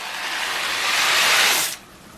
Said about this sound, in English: now that my water is boiling, I'm going to come and add my macaronis to the water.